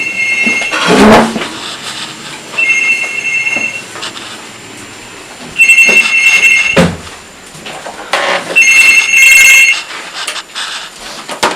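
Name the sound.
telephone ringing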